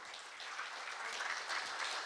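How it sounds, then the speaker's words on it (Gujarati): Members of an audience at a community business gathering clap together steadily throughout, heard as soft, distant, even applause with no voices over it. "બધા જ જરા એક તમારી પોતા માટે તાળી પાડવાની"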